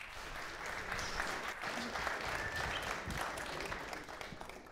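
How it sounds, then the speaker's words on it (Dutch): Warm, sustained applause from the audience at a municipal council election results evening in Zaltbommel, as a speaker is welcomed, steady and moderately distant for the whole stretch. "Mag ik een heel groot applaus, Kees Metz."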